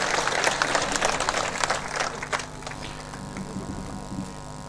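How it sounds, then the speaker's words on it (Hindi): A crowd at a farmers' rally in Laxmangarh, Sikar, claps in brisk applause that fades after a couple of seconds into quieter outdoor murmur and scattered sounds. "तो एक बार जोर की ताली बजा दो जो आंखों सम्मान हो जाए अपनी तरफ।"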